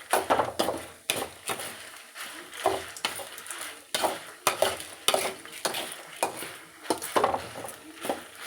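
Cumin and coriander seeds dry roast in a pan while being stirred, producing steady rhythmic scraping and rattling strokes, close and fairly loud, with no speech.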